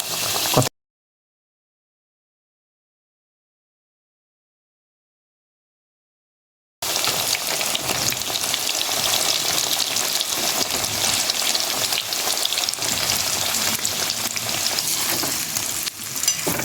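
Jackfruit pieces frying in hot oil seasoned with panch phoron and hing for pickle, a steady close sizzle with stirring that continues after a long silent gap at the start.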